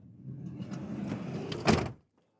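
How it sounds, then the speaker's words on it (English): A Mercedes Sprinter 144 chassis custom van door slides and closes, a short scraping roll that ends in a single firm thud, then quiet; close and moderately loud, no talk. "I'll close this door"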